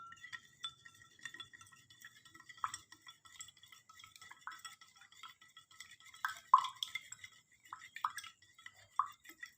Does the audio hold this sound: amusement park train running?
no